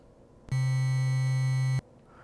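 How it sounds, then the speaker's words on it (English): One steady synthesized tone from the LSDJ wave channel on a Game Boy, shaped close to a triangle wave, holds at constant pitch and loudness for just over a second, then cuts off abruptly, with near silence before and after. "This is our raw kind of what would be sort of like a sine wave, but it really ends up kind of being more like a triangle almost"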